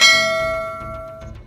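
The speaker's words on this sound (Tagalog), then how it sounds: "hit the notification bell" A single bright bell-like ding rings out for a notification, loud at the start and then fading away over about a second and a half, alone with no talking.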